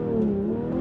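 Porsche 911 GT3 with manual gearbox held at high revs for a launch-control start, a strong steady engine drone with a slight pitch dip and rise, loud and close, lasting under a second.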